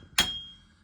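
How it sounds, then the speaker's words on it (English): A slide hammer strikes metal once on a Jeep TJ wheel bearing, a single sharp close clank with a brief metallic ring fading out. "then I'll slide hammer it out"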